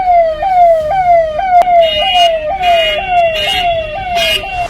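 Ambulance siren wailing loud and close, a repeating rising sweep cycling steadily, with brief horn-like bursts layered on top.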